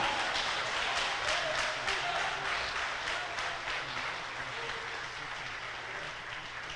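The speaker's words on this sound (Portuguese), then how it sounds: "aplaude, aplaude, aplaude." Church congregation applauding during a sermon, a steady wash of many hands clapping at moderate distance that fades slightly toward the end, with faint speech underneath.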